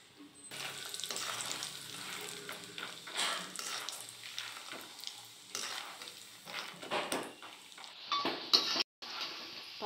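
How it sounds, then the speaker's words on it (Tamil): Peanuts deep-fry in oil for a poha mixture, a soft, close sizzle broken by bursts of stirring and metal utensil clinks against the pan, ending with a few sharp clinks. "நிலக்கடலை பருப்பு நல்லா பொரிஞ்சிருச்சு"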